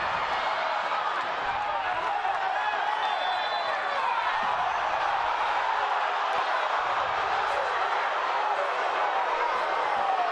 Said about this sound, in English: Crowd's none too pleased